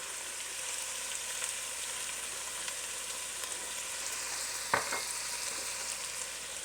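Garlic sizzles and fries in a pot alongside Italian sausage for a soup, a steady bright crackle with a brief stirring clatter partway through.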